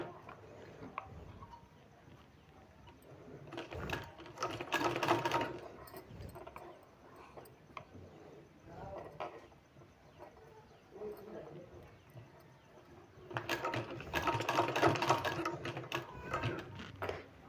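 A sewing machine stitches a sleeve in repeated bursts of running, with pauses between passes; a voice speaks over parts of it.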